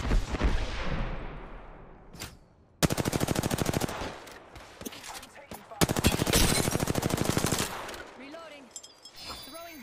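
Player firing in a video game: rapid automatic gunfire in several long bursts separated by short pauses, loud and close, with voices talking between bursts.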